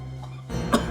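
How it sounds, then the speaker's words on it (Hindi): A man coughs sharply once at close range during a tense indoor scene in a crime drama, a brief, harsh burst following a moment of quiet. "सांप का टुकड़ा देखकर इतनी खांसी?"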